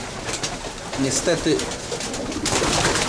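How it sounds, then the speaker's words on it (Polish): Pigeons on a roof cooing in short low bursts amid wingbeat flutters and outdoor noise as they are driven off, with a person speaking briefly. "teraz nam te gołębie zgania z góry, z dachu"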